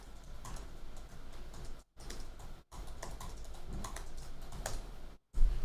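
Two-finger typing on a computer keyboard, a close run of quick, uneven key clicks interrupted by several brief silent gaps, with no talking.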